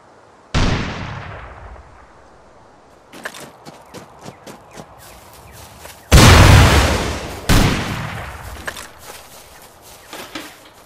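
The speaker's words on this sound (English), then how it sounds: "Here we see the rocket launcher's efficiency on wood buildings." A rocket launcher in the video game Rust fires with a sharp, booming launch, followed by light clicks and footsteps, then two heavy explosions in quick succession that roar and fade out.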